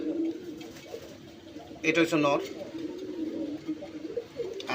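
A male Rajgolla pigeon, brown and spirited, coos low and repeatedly while someone talks nearby, with one louder burst in the middle.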